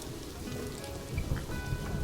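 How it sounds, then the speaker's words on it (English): Rain falling in the zoo of the video game Planet Zoo, a dense, steady patter of drops across the whole stretch, slightly heavier in the second half, with no talk over it. "right now in my zoo, it seems like I get a lot of rain and a lot of snow"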